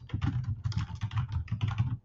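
Rapid keystrokes on a computer keyboard as a meal name is entered into a nutrition-tracking app, a steady clattering run of clicks lasting about two seconds, close and clear with no talking.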